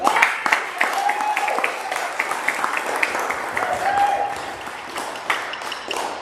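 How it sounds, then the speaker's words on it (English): A church congregation gives a round of applause at the close of a service, steady clapping of moderate loudness with a few sharper individual claps and faint voices mixed in. "let's go on the last round of applause"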